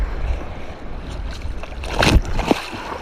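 Strong sea waves slapping and surging around a small fishing boat, a broad rushing wash with heavier splashes swelling near the middle, close and loud, wind noise mixed in.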